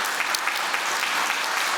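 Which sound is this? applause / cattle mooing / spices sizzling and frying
applause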